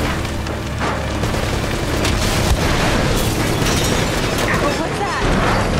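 Rocket launcher blasts in the PS4 game Uncharted: Drake's Fortune sound as loud, rumbling booms and bursts of debris that keep going with no gaps. A voice talks over the explosions.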